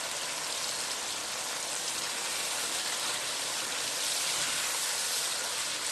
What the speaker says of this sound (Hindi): उसके बाद इसमें हम 1 कप के करीब पानी डाल देंगे